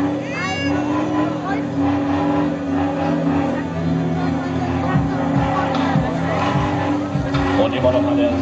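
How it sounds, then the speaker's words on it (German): Car engine roaring steadily as the car drives tilted on two wheels during a stunt show, loud and continuous, with a commentator talking throughout. "Und immer noch hat er seinen PKW in der Schräglage"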